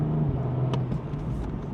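A BMW M135i F20 with Stage 1+ tuning hums in a steady low engine drone while driving, heard from inside the car with a brief whooshing noise partway through.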